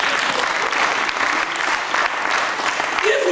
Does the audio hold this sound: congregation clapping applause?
yes